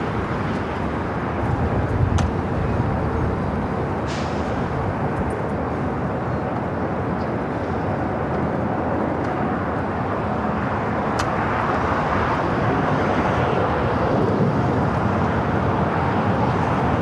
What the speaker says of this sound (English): The cargo 747 lined up on the 25 left, also given clearance for takeoff.